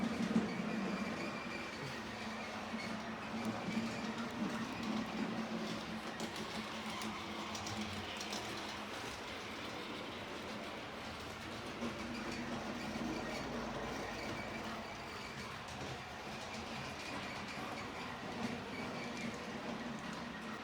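A button-operated model railway train runs steadily in a building, a soft continuous rumbling and clattering that stays at a low, even level throughout.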